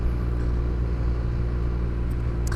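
A motorcycle engine idles with a steady, deep rumble that stays even and close throughout, with no revving.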